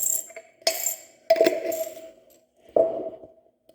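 Metal coins clinking in a few bright bursts as they are set aside, close and fairly quiet, with short pauses between handfuls and no talking.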